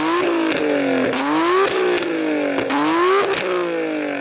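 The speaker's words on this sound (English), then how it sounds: "I'm going to rev up this beautiful R32. Should point out it's got an aftermarket titanium exhaust" A stationary Nissan Skyline GT-R R32 with an aftermarket titanium exhaust is revved repeatedly, its engine pitch climbing and falling in several sharp, loud, close-up blips with no talking.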